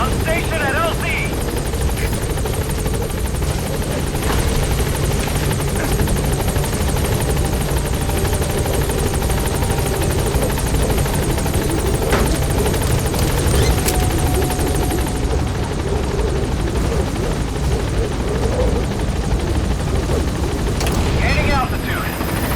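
A helicopter arrives at a landing zone in Metal Gear Solid V: The Phantom Pain, its loud, steady rotor roar filling the whole stretch while voices talk over it.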